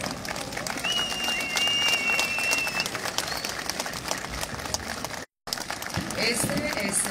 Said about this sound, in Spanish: vamos a recibir con un fuerte y caluroso aplauso a la licenciada Susana Reyes y al licenciado Alfredo Arista